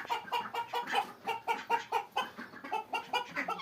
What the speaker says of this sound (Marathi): कोंबड्या, गिनीगोल आणि टर्की